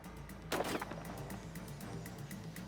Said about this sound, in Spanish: Se oyó un disparo.